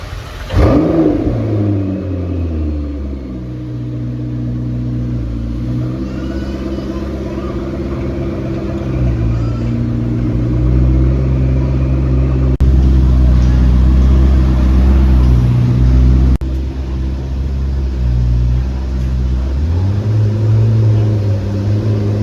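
A McLaren 650S Can-Am with four exhaust tips revs its engine nearby, a loud, sustained mid-pitched growl rising and falling across several throttle blips, with people talking over it.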